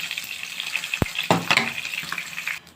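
Fish frying in a pan, a close crackling sizzle with a sharp clack from a utensil and a burst of spattering as pieces are turned, no one speaking.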